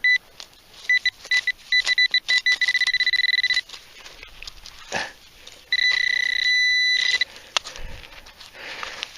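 Metal detector sweeping over a buried target while hunting for old bullets in Utah, giving several bursts of bright, warbling electronic beeps, some rapid and stuttering, with a longer steady tone later and gaps of quiet between.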